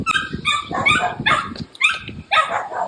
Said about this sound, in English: The puppies are out. Yes. Hear them